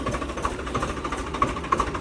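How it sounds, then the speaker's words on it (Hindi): A Massey 7250 or Swaraj 744 XT tractor engine runs steadily nearby, a continuous rough, throbbing diesel drone with faint knocking pulses and no speech. "और अभी मेरा छोटा भाई ट्रैक्टर चला रहा है।"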